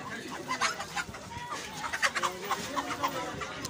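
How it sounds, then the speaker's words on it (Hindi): A white aseel rooster clucks in short repeated bursts at a busy Sunday bird market in Islamabad, mid-distance amid crowd murmur and background market noise. "ये वाइट मुर्गा चेक करें जी लड़के के पास"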